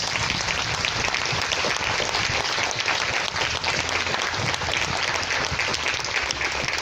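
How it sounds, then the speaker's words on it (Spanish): A church congregation claps loudly and steadily for several seconds, a dense, sustained wash of applause filling the room. "Le damos un aplauso fuerte al Señor."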